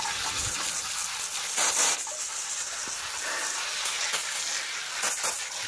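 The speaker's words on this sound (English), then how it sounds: "Now I'm just gonna spray it off," Water from a handheld spray rushes steadily over an effluent filter pulled from a septic tank at the sanitary tee, a continuous close hiss with slight surges and no voices.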